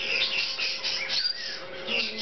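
A hand-fed baby male umbrella cockatoo chirps in a series of high, thin, close peeps and squeaks, with no talking.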